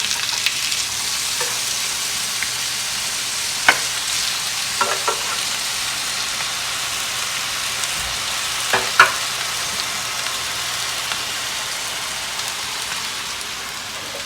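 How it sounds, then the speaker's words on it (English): Turkey burgers fry in a little olive oil in a pan, a constant crackling sizzle heard up close, with a few sharper pops and spits breaking through the steady frying. "put them in the pan and cook them for 6 minutes on each side"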